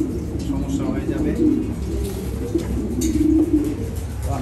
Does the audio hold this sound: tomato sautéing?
no